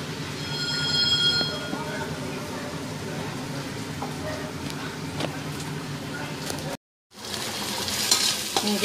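Boiled rice being stirred into onion and tomato masala for tomato pulao, with continuous sizzling and repeated scraping of the spoon in the pan, near and fairly loud, broken by a brief silent gap.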